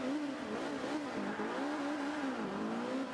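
A Lotus race car in the Forza Motorsport 5 video game accelerates, its engine whining up through rising pitch sweeps that drop back with each gear change, loud and continuous with no speech over it.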